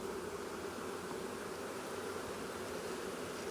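A dense, steady drone of Caucasian honey bees buzzing close at an open hive in a bee yard, continuous and even with no voices.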